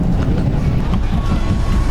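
A Korean passenger train runs at about 130 km/h near Changwon, heard from inside as a loud, continuous low rumble of wheels on rail with faint rhythmic clatter.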